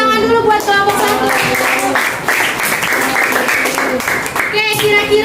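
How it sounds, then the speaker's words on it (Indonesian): Classroom students clap together for a presenting group, a dense round of hand clapping mixed with children's voices and a teacher talking over the start and end. "Ya, tepuk tangan dulu buat kelompok 1."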